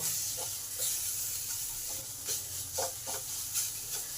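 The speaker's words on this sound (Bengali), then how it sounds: "একটু জিরে গুঁড়ো সামান্য পরিমাণ ধনে গুঁড়ো দিলাম এবার সমস্ত কিছুকে একটু ভালো করে নেড়ে নেব" Cumin and coriander powder stirred into a frying pan for a banana-flower paratha filling, with a steady soft hiss and a few faint scraping strokes of the spatula, close and quiet, with no talking.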